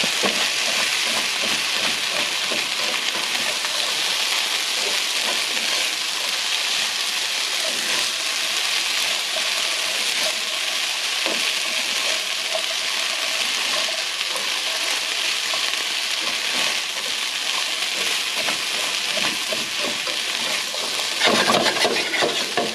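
Seasoned food, with salt and pepper, fries in a pan with a steady, dense sizzle that runs throughout, joined by faint scraping as it is stirred, with a brief louder clatter near the end.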